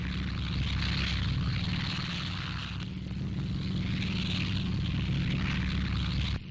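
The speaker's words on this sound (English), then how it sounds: "Medium bombers flown by the Lorraine squadron of the Free French, revisiting their native land daily." WWII medium bombers of the Free French Lorraine squadron flying overhead, a loud, steady multi-engine propeller drone that holds unbroken for the whole stretch with no talk.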